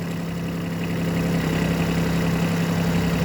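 A used Japanese Hinomoto CX14 mini tractor's engine runs steadily at raised revs, a loud close continuous drone with a strong low hum and a slight rise in level midway.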